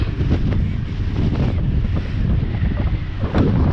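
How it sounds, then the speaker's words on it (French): Wind rising over the sea off Marseillan beside a small fishing boat, a loud steady rush buffeting the microphone, with surf and water sloshing beneath it and no voices. "Il y a un petit vent qui se lève aussi."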